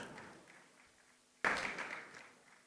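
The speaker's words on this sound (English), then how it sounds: "Can we clap for him?" Audience applause breaks out suddenly midway at a national conference on non-oil export, welcoming a Nigerian filmmaker and TV CEO; faint background murmur first, then a dense burst of clapping that lingers and thins out.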